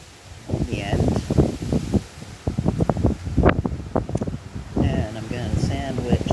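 Strong wind blows outdoors in St. John's, a steady gusting rush through the whole stretch, with a person talking nearby over it.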